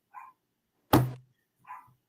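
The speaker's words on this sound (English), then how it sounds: "But what we think of as barking" A dog barks three short times indoors, the middle bark loud and sharp between two softer ones, with silence in between.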